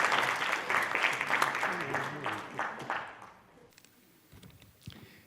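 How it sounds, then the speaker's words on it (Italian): Audience applause welcomes a speaker at a public talk on urban planning in Vittorio Veneto, a steady burst of clapping that fades out around three and a half seconds, followed by quiet room noise and a few faint knocks. "Lo accogliamo con un applauso."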